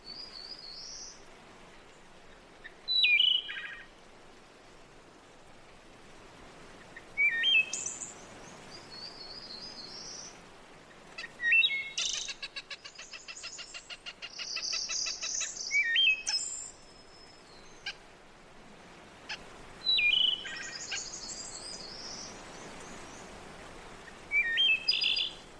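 Birds sing in a forest, with separate bright chirping phrases spaced every few seconds, some closer and louder and others fainter, over a quiet background and no voices.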